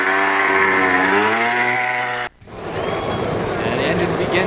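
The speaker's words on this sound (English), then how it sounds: "And engines begin to rev up here at Texas" Video game NASCAR race cars at Texas: a loud engine rev with rising and falling pitch, then it cuts abruptly to a rougher, buzzing engine drone that holds steady to the end.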